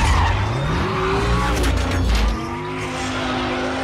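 A Dodge Demon drifts with loud, sustained tire squeal and skidding over a revving engine, the screech shifting pitch before the engine note drops away near the end.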